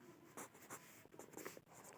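Pen writing algebra on paper or a board during a math lesson, faint scratchy strokes in short bursts, quiet and close.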